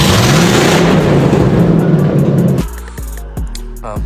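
A Chevrolet K1500 pickup truck with a recharged battery cranks and catches, its engine roaring loudly up close before settling into a steady, throbbing idle.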